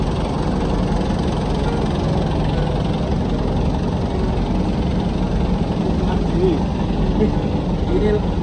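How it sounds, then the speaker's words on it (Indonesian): A warmed-up truck engine idles at a truck loading queue, a steady rumbling diesel drone with faint knocking, close and continuous throughout with no talk over it. "Ini udah dipanasi guys mesin ini."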